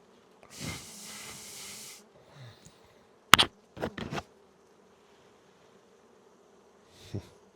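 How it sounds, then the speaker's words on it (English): A honey bee buzzes close against a beekeeper's veil during a Langstroth hive inspection, a clear steady buzz lasting over a second, then quiet broken by a few sharp clicks and a faint later buzz. "found a little break in my veil, and this bee is right down where it was."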